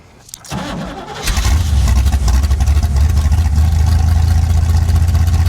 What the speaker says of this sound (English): That's Freiburger horsepower right there.